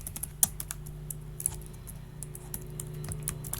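Code being typed on a computer keyboard: quick, uneven clicks and taps of keys at close range, fairly quiet and continuous, with no voices.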